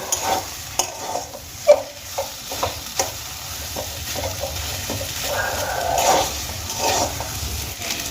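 Spiced potato filling for aloo kachuri frying in a pan, an uneven sizzle with sharp scraping stir strokes, several sharp knocks early on and then steadier stirring, close by.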